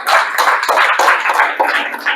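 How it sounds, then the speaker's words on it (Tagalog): Applause from a congregation during a church service, a dense burst of close clapping that carries on steadily for a couple of seconds. "Lakasan nyo naman ang palakpak."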